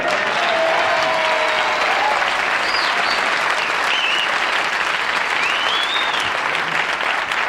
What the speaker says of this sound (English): they're applauding because they love you